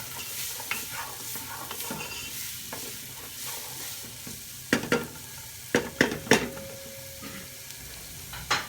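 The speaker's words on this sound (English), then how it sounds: "all we want to do is finely saute this on a medium heat" Onions sauté in a pan over medium heat for beef vindaloo, a steady close sizzle broken by several sharp scraping stirs of a utensil toward the end, with no talking.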